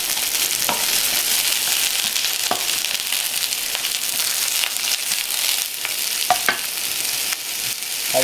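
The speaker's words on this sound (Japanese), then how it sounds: "十分温まったところで きのこ入れます" Mushrooms sizzle in a hot pan for a soufflé omelet sauce, a loud continuous frying hiss with occasional scraping stir strokes and no talking.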